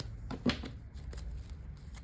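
Quick riffling bursts of tarot cards being shuffled, close and soft, a few short flurries with a brief louder snap near the middle.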